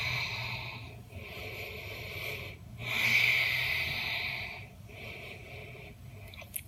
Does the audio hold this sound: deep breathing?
yes